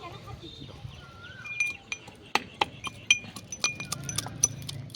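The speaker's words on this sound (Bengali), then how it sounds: "এবার রসুনগুলো হামাম দিস্তাতে থেতো করে নিই।" Garlic cloves being pounded in a metal mortar and pestle for a mutton curry, a series of sharp metallic clinks and knocks landing in an irregular rhythm, close by and fairly quiet.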